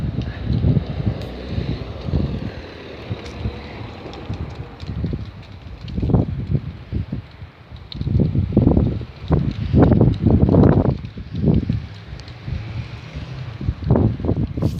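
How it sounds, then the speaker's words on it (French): Strong outdoor wind buffets the microphone in heavy rumbling gusts that swell and ease repeatedly, loud and close, with no talk. "Il y a beaucoup de bruit, il y a beaucoup de vent surtout."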